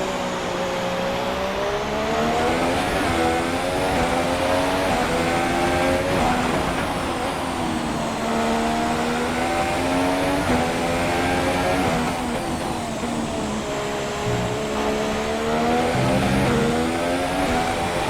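Race cars on the final lap of the United States race in the F1 2017 video game, in changing conditions: a loud, sustained, high-revving engine whine that rises and falls through gear changes, steady throughout.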